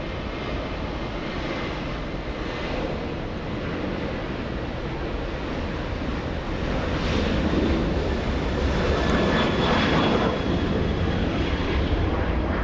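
A British Airways Airbus A350-1000 arrives at LAX on runway 25 left, a broad, steady roar of jet engines that swells slightly louder partway through, heard from a distance with wind noise.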